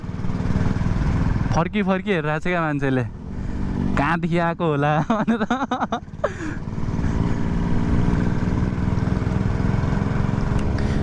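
A Honda CB600F motorcycle with a loud exhaust drones steadily while riding, close up, as someone talks over the engine noise.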